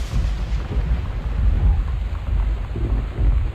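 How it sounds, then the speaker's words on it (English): Deep rumbling thunder from a storm in the exploration game Gone Home, a continuous heavy low roll with swelling peaks, loud and close, with rain-like hiss and no voices over it. "because Jesus Christ, that thunder"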